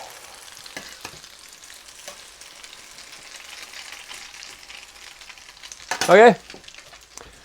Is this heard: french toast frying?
yes